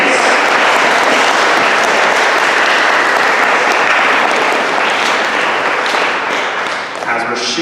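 Loud, sustained applause from a school concert audience after an intermediate band's saxophone feature, steady and dense for several seconds before thinning slightly at the end.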